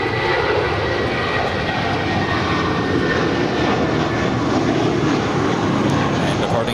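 The engines of a Cathay Boeing 747-8 freighter at Los Angeles International Airport rumble and roar continuously, loud and broad with a steady droning texture throughout, no talk audible.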